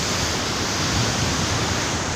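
Fierce ocean waves crash continuously at Bengkung beach, a loud, unbroken roar of churning surf with no voices over it.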